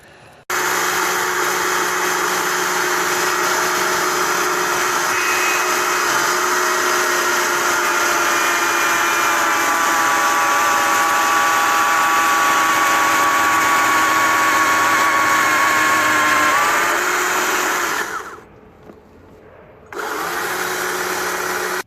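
A power saw plunge-cutting a square hole halfway into a log for a rocket stove, a loud continuous motor whine with rising pitch under load, then a brief stop before it starts up again.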